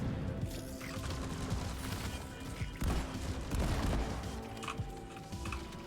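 An automated turret fires steady bursts of gunfire in the video game Deep Rock Galactic, a continuous rattling barrage with heavier thumps mixed into the dense game noise.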